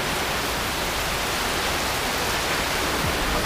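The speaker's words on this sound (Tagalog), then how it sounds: "Pag gumagawa talaga mo ulan." Rain falling as a steady, loud hiss that stays even and unbroken throughout, with no talk over it.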